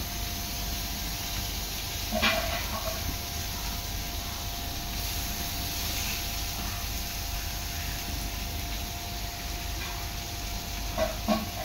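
Liquid drained from fresh small shrimp (ola javla) hits a hot pan with a steady, broadband sizzle that hisses throughout, with a few brief sharper spits and crackles along the way.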